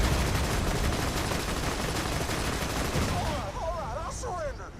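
Rapid gunfire from caravan escorts in the shooter game Borderlands 2, a dense continuous barrage of shots filling the scene, thinning out near the end as game effects chirp over it.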